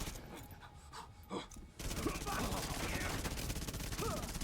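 Rapid submachine gun fire from a buffed SMG in The Division 2, a dense stream of shots starting after a brief quieter stretch with scattered bursts, continuing steadily to the end.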